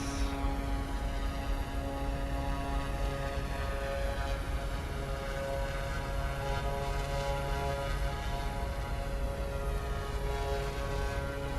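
Turboprop transport plane in slow flight in Microsoft Flight Simulator 2024, giving a steady, loud propeller drone with a constant engine hum and tonal whine throughout, no talk.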